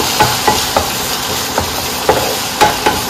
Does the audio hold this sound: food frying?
yes